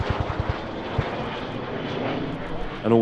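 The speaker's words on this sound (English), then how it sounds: "An altogether rarer type now, the A4 Skyhawk." An A-4 Skyhawk jet at the EAA AirVenture Oshkosh airshow, a steady mid-distance jet rumble lasting a few seconds, with a few low thumps at the start and a louder surge at the end.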